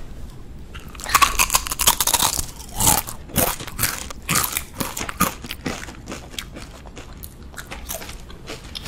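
Crunchy red and blue foods such as jelly candy, cake, sausage and burger are bitten and chewed up close during a mukbang, making loud sharp crunches in quick bursts that gradually soften into quieter chewing.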